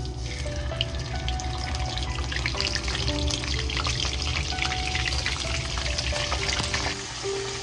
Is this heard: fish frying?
yes